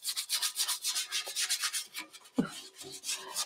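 A sander works over a thrifted home decor piece with steady, close rasping strokes that rise and fall in a continuous rhythm, plus a brief knock partway through.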